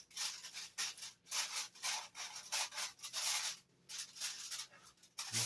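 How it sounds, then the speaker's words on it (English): Crinkly foil rustles and crumples close by in repeated bursts with short pauses between them. "tin foil makes a very unique sound"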